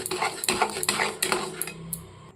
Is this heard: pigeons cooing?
no